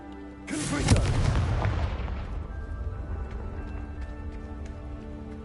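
A Confringo fire-spell explosion in Hogwarts Legacy, one sharp, loud blast followed by a crackling, rumbling decay that fades over several seconds beneath soft game music.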